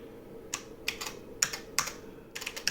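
Light, irregular clicks of keys being pressed on an IBM 5150 computer keyboard, a handful of quick taps in small clusters, close up against a quiet background.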